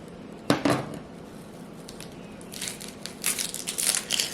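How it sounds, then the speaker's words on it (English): A knife slices a peeled onion into half rounds on a cutting board for shrimp ceviche, with one crisp crunchy cut followed by a run of quieter, rapid crunchy chops. "once I peel it, I just like to cut it in half rounds"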